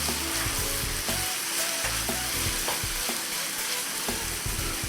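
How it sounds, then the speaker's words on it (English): Carrot stirred into a pan of frying homemade dog-food bolognese, a continuous nearby sizzle with repeated soft scraping strokes and light taps of the spoon throughout. "And the carrot. Just stir that in, that mixes in nicely."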